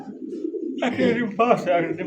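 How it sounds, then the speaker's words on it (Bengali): Soft, low cooing from a Rajgolla pigeon in a pigeon seller's loft, sitting under close conversational talk that runs through most of the two seconds. "দর্শক এই মুহূর্তে দেখতে পাচ্ছেন খুব সুন্দর একটা রাজগোল্লা কবুতর"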